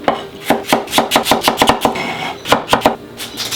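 A kitchen knife chops white turnip into small dice with quick, uneven strokes: a rapid series of crisp, close knocks on the board that pause briefly midway before resuming.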